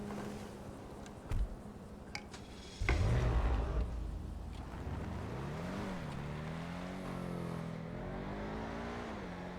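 In a video game, a car starts up after a few brief knocks, then its engine revs and accelerates, rising and falling in pitch as it drives off at a steady moderate level, with no talking.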